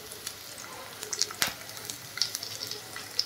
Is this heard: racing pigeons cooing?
no